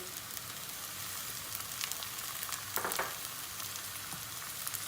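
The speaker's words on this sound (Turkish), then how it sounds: "Aynı şekilde biberleri de kavuracağız." Peppers sautéing in a pan with onion for a spaghetti dish, a steady quiet sizzle with a brief louder crackle and stir partway through.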